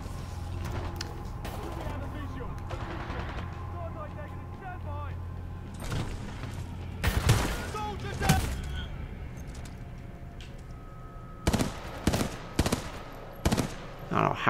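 Gunfire in the video game Titanfall 2: rapid bursts of shots in clusters near the middle and again toward the end, over a steady game soundscape with a player talking now and then.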